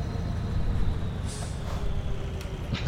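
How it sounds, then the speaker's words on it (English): Simulated truck air brake and dump valve hiss in Euro Truck Simulator 2, heard as a steady low engine rumble with short bursts of air release, moderately loud and with no talking. "Oh, the dump valve, though."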